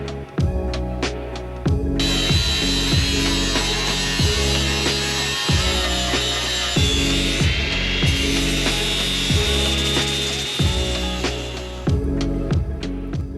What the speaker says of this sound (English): I will be sanding the damaged area back to bare metal